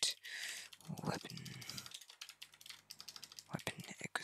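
Computer keyboard typing while scripting a Roblox game, a quick run of light key clicks with brief pauses, close and fairly quiet, with faint speech-like sound in places.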